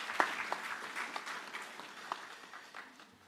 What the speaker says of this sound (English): A hand clap for Vincent.